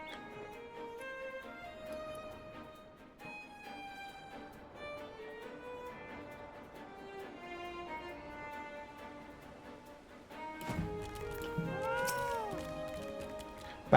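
Cartoonish cat meows from a chubby cat in the Final Fantasy XIV video game, several faint sing-song cries over light game music, with a louder cluster near the end.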